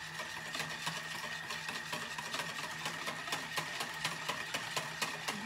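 A Thermomix whirs faintly with a steady, quiet motor hum and light rhythmic ticking as it mixes milk with a few drops of vanilla essence for homemade yogurt.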